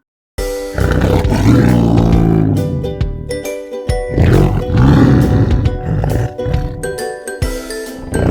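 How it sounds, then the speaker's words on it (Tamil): Loud, deep tiger roars repeat in several long bursts, rumbling and growling close up, with brief pauses between them and some faint tinkling. "புலி உருமும்."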